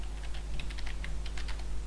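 An administrator credential is typed on a computer keyboard during a Windows Server 2016 setup, a quick steady run of close, crisp key clicks with no pauses.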